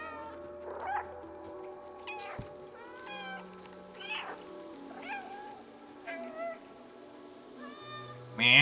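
A cat meows several times in the video game Stray, its calls coming in short bursts over a soft, steady rain-like ambience, with faint background sound between cries.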